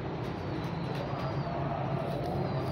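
Pigeons coo softly on a rooftop loft, low repeated calls mixed into a steady background hum and rumble, fairly close but not loud.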